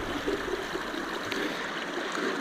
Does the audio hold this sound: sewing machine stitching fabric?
no